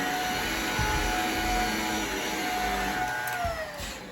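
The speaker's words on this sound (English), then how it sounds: "it should be like a brand new vacuum cleaner." A Shark Navigator upright vacuum cleaner motor, freshly cleaned and unclogged, drones steadily and loudly with a high whine, the pitch dipping slightly near the end.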